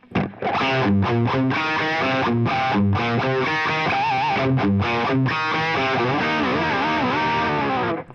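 A heavily distorted electric guitar plays a chugging riff with bending, wavering notes, loud and continuous.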